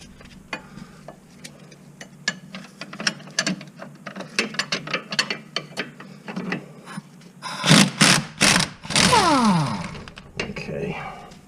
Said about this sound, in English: Get that wrench on there a little bit better.